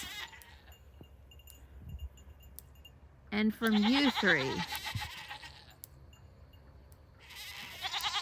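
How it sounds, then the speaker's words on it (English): Several goats bleat loudly, one long wavering cry in the middle and harsher calls at the start and end, with a person speaking briefly between them. "guys are loud, complaining goats"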